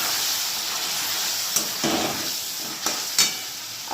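Boiled tomatoes sauté in a pan for chicken pasta, a close steady sizzle broken by a few scraping stirs of a spoon.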